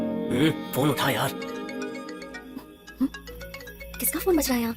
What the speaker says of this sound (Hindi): किसका फोन बज रहा है यहाँ?